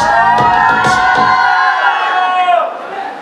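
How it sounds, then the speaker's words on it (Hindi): Crowd of wedding sangeet guests whooping and cheering loudly together, a sustained roar of many voices with a few claps at the start, fading out toward the end. "थोड़ा शोर मचाना है आप सभी को"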